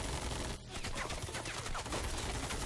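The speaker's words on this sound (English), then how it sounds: "Why are you wasting bullets?" Dense automatic gunfire in the animated series Invincible, a loud continuous barrage running through the whole stretch with a brief dip early on, heard alone without talk.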